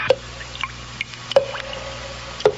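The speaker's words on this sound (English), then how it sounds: "The sound you hear is dripping blood." Dripping blood as a sound effect: three separate drops falling at slow, irregular intervals, each a clear wet plop ringing out against a quiet, hushed background.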